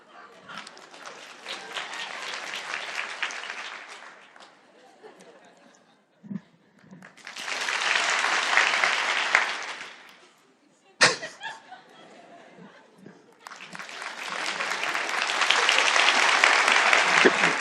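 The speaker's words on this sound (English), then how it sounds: "we will clap if you're getting warmer and stop clapping if you're getting colder" Bursts of audience applause used as warmer-or-colder hints in a guessing game at a GreenBiz conference, swelling in three long stretches and stopping in between, with a sharp slap and brief talk in the pauses.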